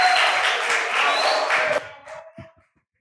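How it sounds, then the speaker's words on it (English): Brief round of audience applause for a student speaker at a school talk, dense clapping for under two seconds that quickly thins out and dies away into scattered claps. "Let's give an applause for him"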